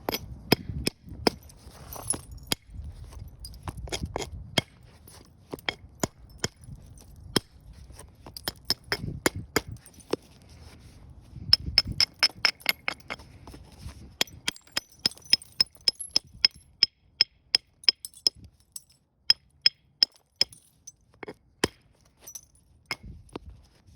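An antler billet strikes obsidian during flintknapping, giving a long run of sharp, glassy clicks and taps, irregular at first and then in quicker, evenly spaced bursts, close and crisp.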